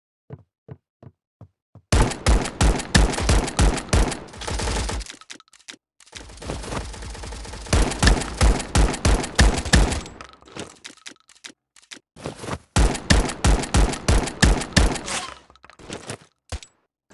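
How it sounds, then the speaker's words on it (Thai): Gunfire in the World War II mobile game World War Legion: loud, rapid bursts of shots in several long strings separated by short pauses, with a few single pops at the start and end, until the ammunition runs dry. "ยิงจนกระสุนหมด"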